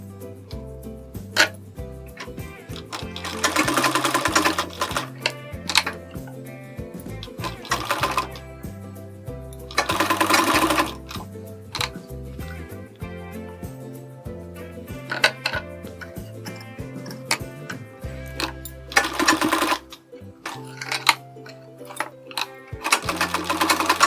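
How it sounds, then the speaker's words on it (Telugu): Sewing machine stitching the folded hem of a sleeve, running in repeated bursts of rapid mechanical rattling with short pauses between, loud and close, with no talk over it. "ఇలా చివరి నుంచి ఒక ఫోల్డ్ చేసుకుని మనం ఇలాగ స్టిచ్ చేసుకుంటూ రావాలి చివరిని."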